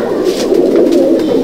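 Malbai pigeons in a loft coo in a dense, steady murmur, close and loud, with several birds overlapping in a continuous low purr.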